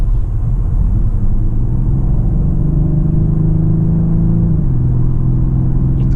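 Mercedes GLB 200 accelerating in intense sound mode, a loud, steady engine rumble heard from inside the cabin with a droning tone that rises and then steps down near the end, no voices.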